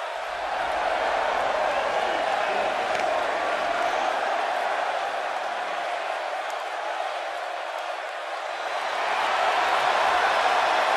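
Steady roar of a sold-out arena crowd in a WWE 2K19 wrestling match, Alexa Bliss versus Sasha Banks, a dense continuous wash of cheering that swells slightly toward the end.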